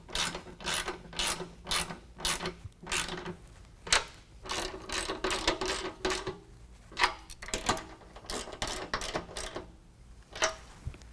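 A hand ratchet clicks in quick repeated bursts while snugging bolts on an N-Fab Predator Pro nerf step on a 2019 Ram 1500, close and crisp with short pauses between strokes.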